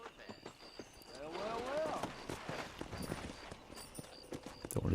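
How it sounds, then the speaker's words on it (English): Horse hooves clip-clopping in the Red Dead Redemption video game, a steady rhythmic run of hoof beats across the whole stretch, mixed with game ambience and a voice talking. "Let's get our horse just in case we need that."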